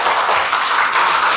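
A church congregation claps together in a steady, loud burst of applause, filling the room without any talk over it.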